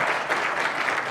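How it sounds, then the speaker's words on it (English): A room of attendees at an annual economic outlook event breaks into steady, dense applause, a continuous wash of many hands clapping at even loudness throughout. "I think that's worth a round of applause"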